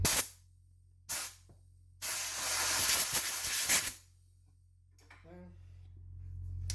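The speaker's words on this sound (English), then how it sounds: "So make sure you blow out your lines before you assemble. So I'm just going to take some compressed air." Compressed air blasts through a braided -AN hose line before the hose end goes on: three sharp hisses, two short and one longer and sustained, separated by quiet. A faint voice is heard near the end.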